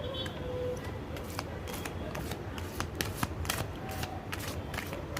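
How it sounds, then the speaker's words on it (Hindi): Tarot cards are shuffled by hand in a steady run of soft, papery riffles and flicks, close and moderately loud over a low room hum, with no talking. "कार्ड्स को मिक्स कर लेती हूँ।"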